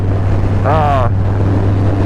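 Wind buffets the microphone with a constant low rumble during the 2023 Run for the Son Christian motorcycle ride, with a brief voice cutting through partway.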